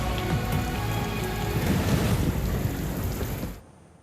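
Heavy monsoon rain in Karachi, a dense, steady downpour hissing loudly on surfaces with low rumbling beneath, continuous until it cuts off abruptly near the end.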